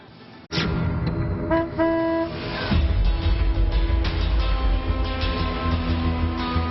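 Loud, sustained vehicle horn blasts, one after another with short breaks, over traffic noise on a street, used in a news segment about monsoon flooding.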